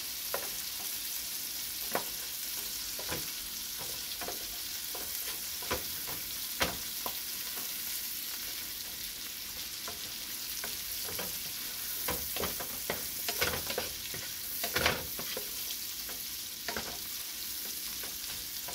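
Butter and garlic sizzling in a pan over high heat, a soft continuous frying hiss punctuated by scattered pops and spatters, close but fairly quiet, no talk.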